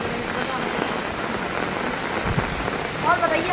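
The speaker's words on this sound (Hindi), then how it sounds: "लेकिन अब बारिश हो चुकी है तो बहुत ज़्यादा अच्छा लग रहा है" Heavy rain pours down in Karachi, a steady dense hiss of drops hitting surfaces that holds for the whole stretch, with a few brief louder spatters near the end.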